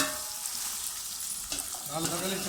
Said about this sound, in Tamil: வெங்காயம் தக்காளி வதங்கிச்சு